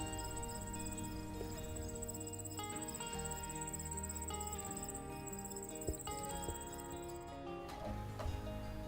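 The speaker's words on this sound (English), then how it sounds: "all was quiet apart from a few crickets chirping" Crickets chirping beside a quiet pond along a gravel road in Northern Ontario, a steady, faint high trill running continuously with sparse insect calls underneath and no voices.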